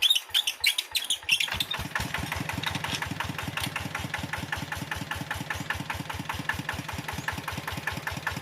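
A tractor engine starts with a few sputters, then settles into a steady, rapid, chugging idle that runs on evenly, close and moderately loud.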